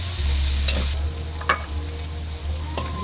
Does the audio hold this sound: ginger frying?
yes